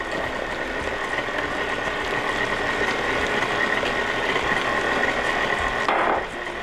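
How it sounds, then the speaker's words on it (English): Muffin batter for chocolate chip banana muffins churning in an electric mixer, a steady whirring drone with rattling texture that holds continuously and fairly loud throughout, with no voices. "And now we have our batter mixing for the muffins."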